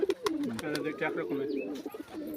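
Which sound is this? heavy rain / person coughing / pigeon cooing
pigeon cooing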